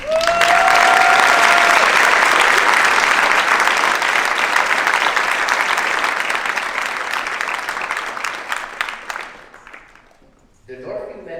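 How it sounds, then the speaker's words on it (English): Audience at a school choir concert gives a big round of applause, loud dense clapping that holds for about nine seconds before fading into murmurs. "Please help us give a huge thank you with a big round of applause for Miss Linda Sandwich."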